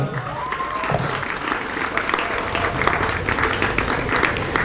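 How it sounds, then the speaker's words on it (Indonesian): An audience at an Indonesian pesantren gathering claps in loud, steady applause that runs unbroken for the full few seconds. "Tepuk tangan dong."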